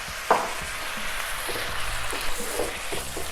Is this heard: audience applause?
no